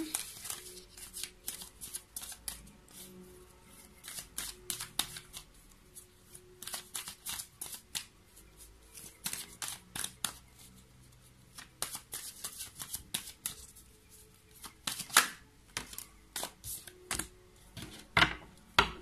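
Tarot cards being shuffled to draw a final card: repeated crisp riffling and flicking bursts, close and fairly quiet, recurring in irregular clusters throughout.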